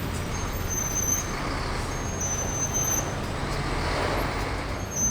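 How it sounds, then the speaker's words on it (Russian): A steady, dense roar of traffic crawls through a jam at a highway junction, with a low engine rumble, occasional faint high hisses like air brakes, and no clear voices. "И вот, вы можете видеть, как пробка продолжается сюда."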